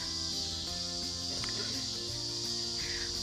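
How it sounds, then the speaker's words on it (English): Cicadas sing near a creek in a park in Winchester, Indiana, making a dense, continuous high-pitched drone that fills the background with faint outdoor sounds beneath. "We found where the cicadas are happy. Listen to those songs."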